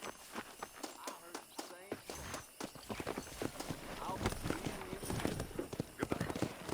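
Horse hooves clip-clop in a quick, steady gallop while a rider travels in the western game Red Dead Redemption. The hoofbeats are close and rhythmic, with voices talking over them throughout.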